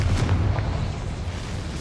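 The Confringo fire spell explodes in Hogwarts Legacy, a loud, close, rumbling fiery blast that stays dense and sustained across a short burst.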